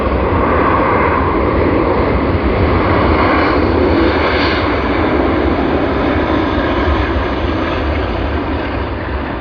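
A Singapore Airlines Airbus A380 touching down at Sydney Airport gives a loud, continuous roar of engines and rushing air that holds steady throughout, with no voices.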